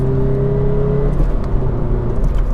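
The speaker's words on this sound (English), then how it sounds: "And the burble from that flat 4, yeah, this car means business." A 2018 Toyota 86's flat-four engine burbles while driving, a loud close droning hum with a steady low tone that breaks into a rougher, lumpier rumble partway through.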